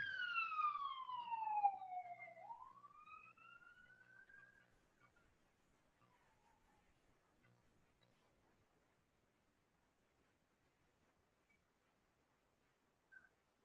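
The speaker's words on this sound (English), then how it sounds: "The siren." Lone siren wailing down and then rising again, fading steadily into the distance until near silence remains, with one faint click at the end.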